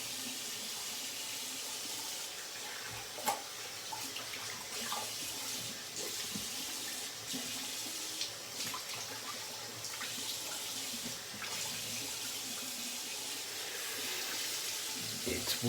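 Tap water runs steadily while a knife is rinsed, a continuous close hiss of flowing water with faint clinks and splashes throughout.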